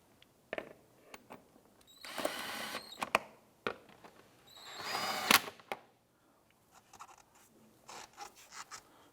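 A power tool snugs down engine mount bolts on a 2007-2012 Nissan Versa, giving two short whirring bursts with clicks and scattered taps between them, faint and close by.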